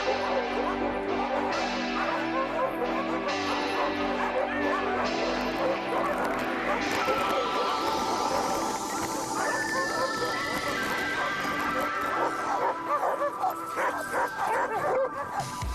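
Team of sled dogs barking and yipping excitedly in Lapland, a dense, continuous chorus of overlapping high yelps and whines close by, with some rising howls and no letup.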